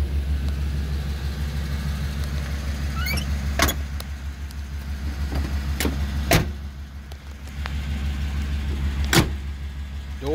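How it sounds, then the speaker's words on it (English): Idling 1989 Chevrolet box-body Caprice, with several car doors thumping shut at intervals over a steady low engine hum, close by and fairly loud, with a few sharp clicks and latches in between. "Doors closed pretty good"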